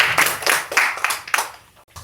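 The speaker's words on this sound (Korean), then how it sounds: "다시 한번 뜨거운 박수 부탁드립니다" Audience applause for a historian professor's lecture on Joseon kings: a brief, moderately loud burst of clapping hands that swells in waves and fades out within two seconds.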